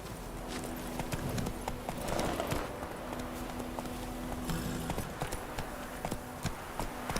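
Roach trots in The Witcher 3, a steady clip-clop of hooves set against background game ambience, fairly close and moderately loud, with no talking.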